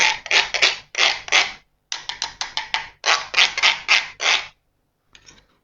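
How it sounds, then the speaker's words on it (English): Lemon zest being grated on a rasp grater, a loud, close scraping in quick rhythmic bursts of strokes with short pauses between, ending in a faint final scrape. "So I'm just going to make sure that I've got all of the zest. Sorry, I'm making a right racket here."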